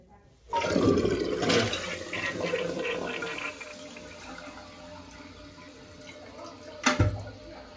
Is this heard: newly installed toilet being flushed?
yes